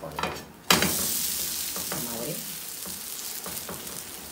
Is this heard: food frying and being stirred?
yes